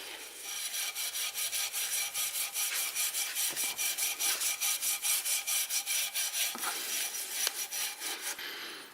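Steel wool loaded with Belgom polish is rubbed back and forth over a BMW Z4M exhaust tip, making a rapid, rhythmic scrubbing rasp that continues steadily and fairly close throughout.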